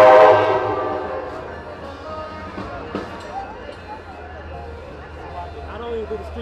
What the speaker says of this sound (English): We're gonna let this train go by.